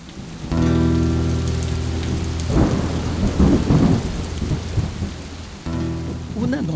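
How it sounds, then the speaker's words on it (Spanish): Heavy rain pours steadily while thunder rumbles loudly and long, swelling and cracking in the middle before fading back under the constant downpour. "la recia lluvia queriendo destrozar el techo de Yaguas"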